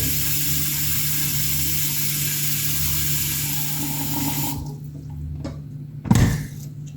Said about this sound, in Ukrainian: Заливаємо буряк знову холодною водою